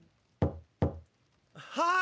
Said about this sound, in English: it is then that we hear a knock on the door